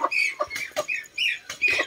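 Chickens, a rooster and hens clucking and squawking close by while being fed on a rural province farm, with busy overlapping calls in short bursts throughout.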